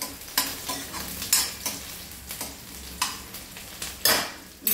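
Onions frying and turning light brown in a pan for a green sukhe matar curry, a constant sizzle punctuated by repeated scraping stirs roughly every half second to second, close up with no talking.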